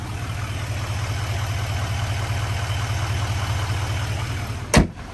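A Chevy Silverado 2500HD's 6.6-liter turbo diesel V8 idles with a steady, even low rumble, heard alone and without talk, until a short sharp knock or thud near the end.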